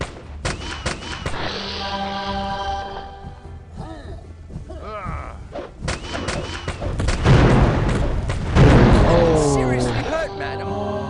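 Gunfire and explosions in the video game Arcanum: Of Steamworks and Magick Obscura, with loud, dense bursts and booms building toward the end, mixed with game music and character voices talking.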